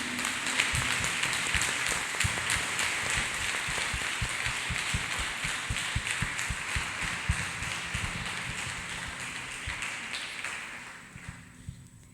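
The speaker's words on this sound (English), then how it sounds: "Let us clap our hands for Jesus Christ one more time." A church congregation applauds for Jesus Christ, steady dense clapping that holds loud for about ten seconds before tapering off into scattered claps near the end.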